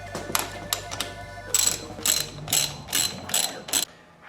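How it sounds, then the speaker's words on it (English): A ratchet tightening a nut tucked underneath a Suzuki GS550 cafe racer motorcycle, a run of close, sharp clicking pawl strokes in quick bursts with no voices. "Got a nut up under here. I'm just trying to tighten it."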